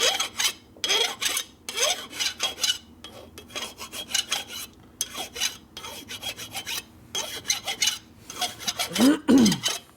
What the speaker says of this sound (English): The file can also put gouges in where you don't want it.